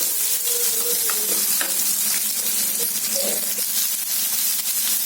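Shallots sizzle and crackle steadily in a hot pan, a constant frying hiss with occasional stirring scrapes.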